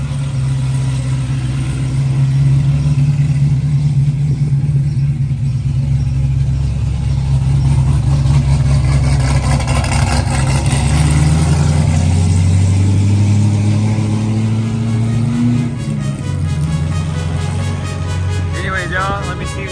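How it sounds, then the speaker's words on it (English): A loud Cadillac engine idles with a deep, rough drone at a shop, then revs up and settles in pitch, close and dominant while a person talks over it. "He's pulling his caddy out."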